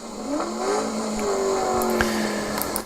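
A Ford Mustang on a race track at Apex Motor Club, heard from inside the car, as the engine note falls and rises through a downshift: a loud continuous drone with shifting pitch and brief clunks.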